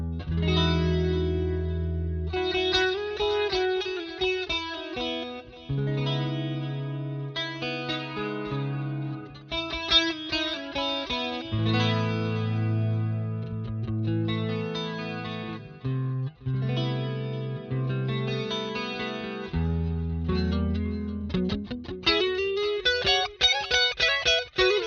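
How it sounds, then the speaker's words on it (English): Telecaster electric guitar played with a clean tone through an STL Tonality amp plugin, heard alone as a steady run of chords and single notes with sustained, shimmering ringing and a busier strummed burst near the end. "I'm here with my trusty telly, and let's dive on into the clean sound"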